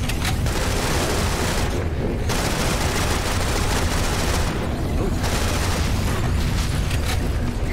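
Rifle gunfire in Serious Sam: Siberian Mayhem, relentless loud rapid shooting mixed with booming explosions, a dense wall of combat noise with only brief dips.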